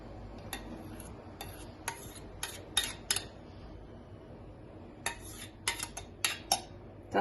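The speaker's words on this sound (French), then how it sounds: "Je vous conseille de mélanger de temps en temps, mais à feu très très doux" Metal utensil clinking against a pan while a homemade hair gel is stirred over very low heat, a series of sharp ticking taps in two bursts over a low background hum, no talk.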